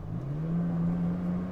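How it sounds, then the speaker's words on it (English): A Toyota Tacoma TRD Pro with an automatic transmission hums along as it downshifts, a steady mid-pitched engine drone that shifts slightly in tone, close and alone. "Time to time it's a bit slow on the downshift,"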